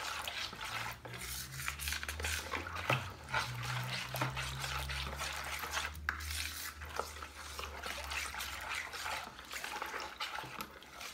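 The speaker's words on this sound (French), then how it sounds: "on va juste mélanger, faire fondre le levure" A spoon stirs sugar and yeast into water in a bowl, scraping and clinking steadily against the sides for several seconds, close and fairly quiet, with soft splashing of liquid.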